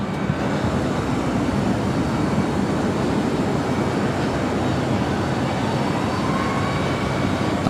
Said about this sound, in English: Is that Air Canada 737 MAX 8 now rolling down at 25 right.